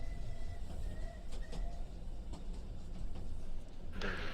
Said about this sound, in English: it sounds like we're on a rail car